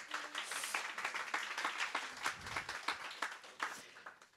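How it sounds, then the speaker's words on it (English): Audience applause for a speaker introduced at a tech-industry customer success panel: a steady, moderately loud patter of many hands clapping, with a few sharper individual claps standing out, fading slightly toward the end. "Please give her a big round of applause."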